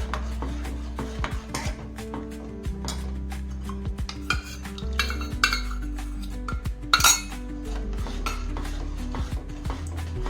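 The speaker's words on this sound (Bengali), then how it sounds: "লো ফ্লেমে আমি ভালো করে দিয়ে এটা নেড়ে নিচ্ছি" A spoon stirs custard in a pan over a low flame, scraping and clinking against the metal in an irregular rhythm, close and moderately loud with occasional sharper knocks.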